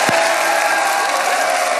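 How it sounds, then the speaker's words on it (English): A city council chamber erupts in thunderous applause after a unanimous vote approving a new Buddhist temple in San Jose, dense loud clapping and crowd noise filling the whole moment without pause. "Thunderous applause after a unanimous vote by the city council"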